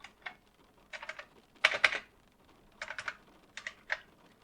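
Bursts of fast key clicks on a computer keyboard, clustered in short runs with brief pauses between them, close and crisp in an otherwise quiet room.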